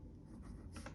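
Pen writing an address on an envelope gives soft, close scratchy strokes, very quiet, with brief rubbing bursts and no talking.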